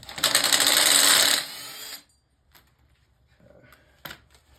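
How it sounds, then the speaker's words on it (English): A power driver whirs steadily for about two seconds, loud and close, as it backs out half-inch bolts holding the engine guard on a tiller, followed by quiet clinks and a sharp metallic tap. "go ahead and take these two bolts off to get this guard off"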